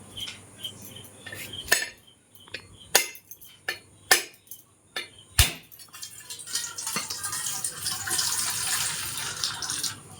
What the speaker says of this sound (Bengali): এবার এটা ফাটিয়ে নিচ্ছি